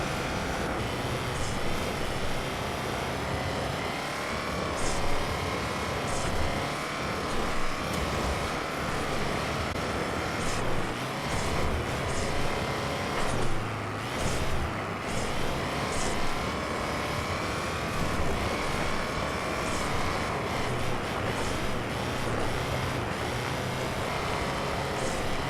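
A helicopter in a video game thrums with a dense, continuous rotor and engine drone, loud and steady throughout, with no one talking over it.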